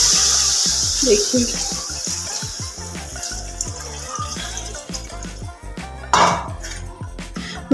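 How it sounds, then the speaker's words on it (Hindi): Water is poured into a pot for making Maggi noodles in a village kitchen, a continuous splashing and gurgling flow heard up close while someone talks over it. "पानी ऐड करूंगी"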